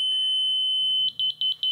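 A Stabila laser sensor gives a steady high electronic tone, then a rapid series of short, sharp beeps as it picks up the laser beam. The sound is close and clear, with no talking.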